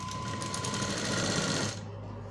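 Close, steady hum and rapid stitching of a sewing machine working on a blouse, running continuously then easing off near the end, with no talk.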